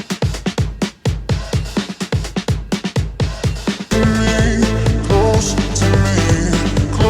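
A breakbeat drum loop in an electronic dance track punches out crisp kicks and snares alone for a few seconds, then the full mix with bass and synths kicks in underneath it at loud, steady volume.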